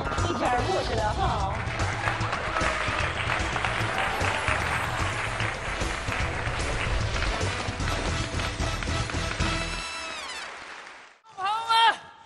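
Sustained, dense audience applause at a televised comedy crosstalk stage show, running for about ten seconds before cutting off, with a brief voice afterward.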